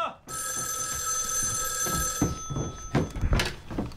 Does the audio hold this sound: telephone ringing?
yes